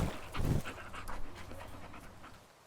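A dog pants in quick, rhythmic breaths close to the microphone, loudest at the start and gradually fading, with no talking.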